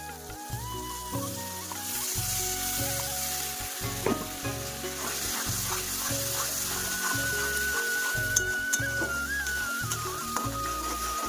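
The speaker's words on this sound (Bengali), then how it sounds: "আদা রসুন আর শুকনো লঙ্কার বাটার পেস্ট আমি দিয়ে দিচ্ছি" A paste of ginger, garlic and dried red chili sizzles steadily in hot oil in a pan for a mutton head curry. The frying crackle runs continuously beneath rhythmic background music.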